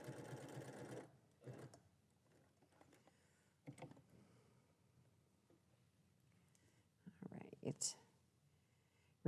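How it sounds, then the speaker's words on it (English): A sewing machine top-stitches around the edge of a fabric face mask in short bursts of rapid whirring, near and clear, with quiet pauses and faint handling sounds between runs. "I'm going to top stitch all the way around the mask"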